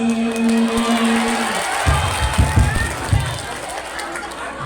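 Crowd noise from an audience at an evening Islamic religious gathering, a swell of clapping and cheering with broadband bursts and murmuring voices, fairly loud and close throughout.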